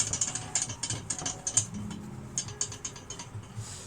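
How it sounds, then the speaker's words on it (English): A wire whisk beats a butter and flour roux in a pan, making rapid rhythmic metallic clicking and scraping strokes that run in bursts, close and fairly loud. "Use a whisk, right? Okay, and we keep whisking it."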